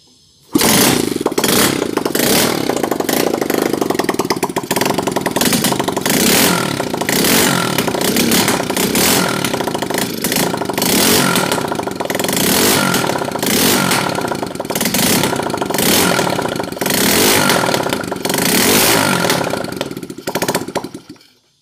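A Bajaj Discover 100 motorcycle engine converted to 135 cc, running on petrol left in the carburettor with no fuel tank fitted, fires up abruptly and runs loud and continuous at a rough, clattering idle for about twenty seconds before cutting off.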